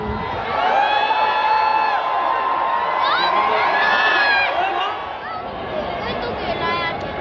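A large crowd roars and chatters, with whoops and shouts rising over a constant babble of many voices.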